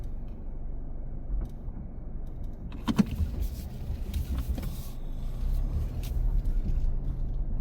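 A car turns around on a gravel road, with the low engine rumble continuing throughout and scattered crunches and knocks from the tires on stones, loudest near the middle.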